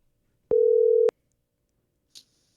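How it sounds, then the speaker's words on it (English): A phone call being placed gives one steady electronic tone lasting about half a second, followed by a brief faint click, with no voices. "I guess it's my phone, so I will dial."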